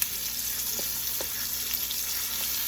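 T-bone steak searing in a pan on the stove, a continuous close hissing sizzle with a few faint pops, no voices.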